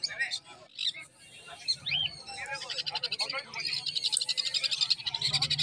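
Caged birds at a Srirampur livestock market call in quick, high chirps and trills that swell into a dense, busy chorus, while people talk nearby.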